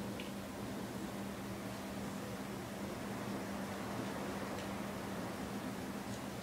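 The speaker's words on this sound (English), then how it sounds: "Sorry about the loud background noise, the dishwasher's on." Steady broadband mechanical hum of a dishwasher running, constant and moderately loud, with a few faint ticks and no talking.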